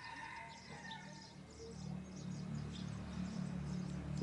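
A sparrow call played as a lure while trapping birds gives faint, repeated high chirps over a low steady hum and background noise.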